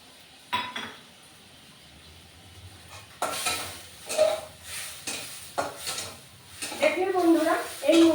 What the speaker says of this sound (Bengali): এর মধ্যে আমি পেঁয়াজ, রসুন, গ্রেট করা চিংড়ি মাছ আর দিলাম কি শুকনো লঙ্কা, 3টে শুকনো লঙ্কা এর মধ্যে, এইগুলো দিয়ে এটাকে নাড়াচাড়া করলাম